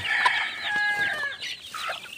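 A mother hen with chicks clucks and squawks nearby in short, uneven calls, with faint farmyard noise around it.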